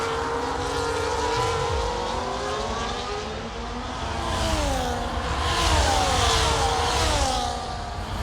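Formula 1 race cars in the F1 24 game at the Spanish Grand Prix in Barcelona, high engines whining and shifting pitch as several cars pass, rising and falling in loudness with no talk over them.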